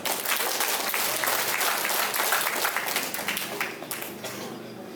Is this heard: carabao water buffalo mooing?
no